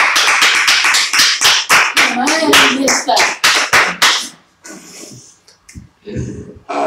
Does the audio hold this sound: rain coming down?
no